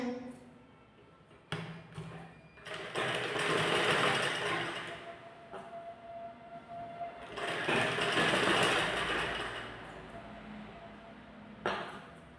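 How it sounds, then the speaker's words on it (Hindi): A sewing machine stitches cord onto a net fabric blouse, running in two sustained bursts of rapid mechanical whirring separated by brief pauses and quieter handling, close and loud. "अब हम एक साइड से देखिए इस तरह से अटैच करते हुए स्टिच करते जाएंगे"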